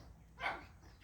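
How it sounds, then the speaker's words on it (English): A single short dog bark, fairly faint and muffled, as if from another room, against a quiet background. "He's barking."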